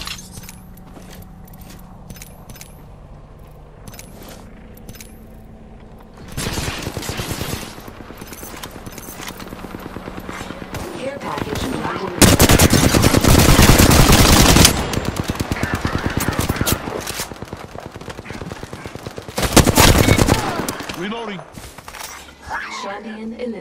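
Rapid automatic gunfire rattles in bursts during a first-person shooter match, with loud sustained volleys and quieter stretches between, mixed with game voice lines and chatter.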